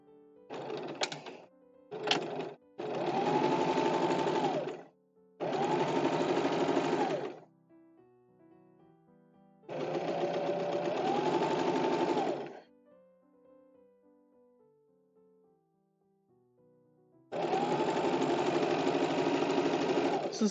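Sewing machine running zigzag stitch through stretch velvet, starting with a couple of short stuttering bursts, then several sustained runs of rapid mechanical whirring separated by pauses, close and clear.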